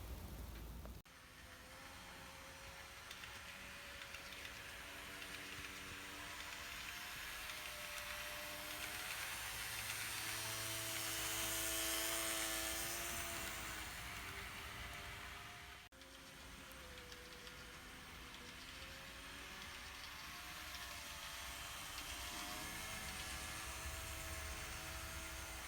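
N gauge model train of a Swiss Schweizer layout with scratch-built catenary masts, running around the track with a steady whirring motor hum and a faint rolling rumble, continuous and fairly close throughout.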